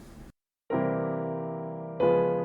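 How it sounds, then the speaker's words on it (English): Two sustained piano dominant seventh chords, the second a semitone higher, follow a brief cut-off sound and a short silence. "We can also use our dominant 7 chords going up chromatically like this."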